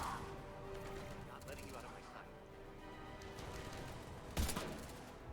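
A single sharp gunshot in the video game Mass Effect 3 rings out near the end, loud and abrupt against a low busy game background, with faint scattered firing and a talking voice earlier.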